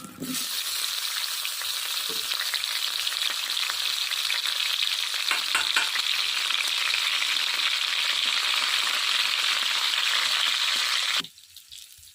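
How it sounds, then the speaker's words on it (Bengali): Potato pieces fry in hot oil in a wok (kadai), a loud, dense, continuous sizzle with a few stirring scrapes that cuts off abruptly near the end, heard close up and without speech. "প্রথমে কড়াইয়ে তেল দিয়ে আলুগুলোকে ভেজে নেব"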